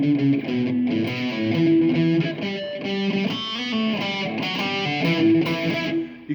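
A distorted electric guitar plays a palm-muted single-note line, chugging notes in a steady rhythm, loud and close with no voices.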